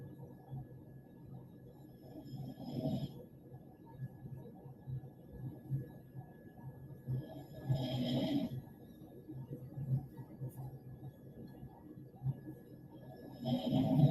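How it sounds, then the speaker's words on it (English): A dog snores indoors in slow, rough breaths, each drawn-out snore a few seconds apart, low and steady beneath a faint room hum, with no talking over it. "Sorry, my dog is snoring."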